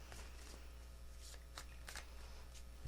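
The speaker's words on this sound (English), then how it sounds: "Let's do 2 more shuffles" Tarot cards are shuffled by hand, with several quick riffling bursts and soft flicks spaced irregularly over a low background hum.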